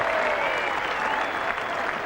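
Cricket crowd applauding after a solid shot in an Ashes match, a dense steady wash of clapping throughout, loud and fairly close.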